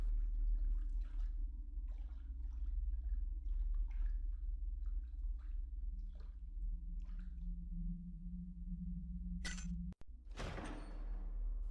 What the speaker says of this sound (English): You can hear something moving in the water, and if you walk in the center, something will splash up